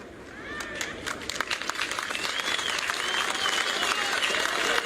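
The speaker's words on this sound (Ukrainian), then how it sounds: "А присутній на місці Люмпен почав аплодувати цій надзвичайно потужній промові" Applause at a street rally in central Kyiv, with clapping building steadily under scattered crowd voices and growing louder toward the end.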